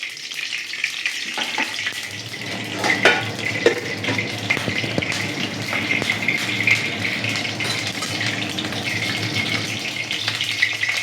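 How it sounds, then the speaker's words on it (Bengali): Oil heating in a wok for vegetable fried rice, with sugar already melting in it. It sizzles steadily and loudly throughout, with scattered crackles and the odd clink of a utensil against the pan. "কড়াইতে দিয়ে দিলাম তেল।"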